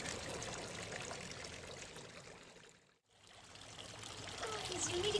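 Rushing water from a misty waterfall, a steady broadband roar that fades to near silence midway and then swells back louder.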